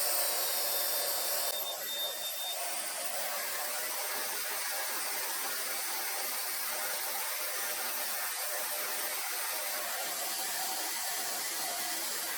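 A TYMO AIRHYPE fast-drying hair dryer blowing on hair makes a continuous loud, close rush of air. A faint high whine is heard at the start, and no voices are heard.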